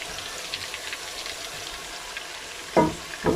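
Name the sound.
onions sizzling in a pan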